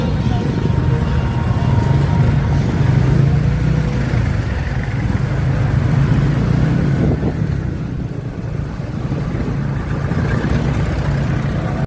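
Road traffic in congested Philippine streets near Maguyaw makes a dense, continuous rumble of car and motorcycle engines, loud and steady, with faint voices mixed in.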